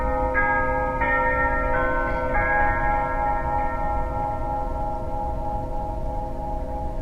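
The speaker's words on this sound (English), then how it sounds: "The clock was ringing, so I love that sound." A clock in a hearing room chimes with sustained bell-like tones, several struck notes layering and ringing on, loud and steady over low room rumble, with no talk.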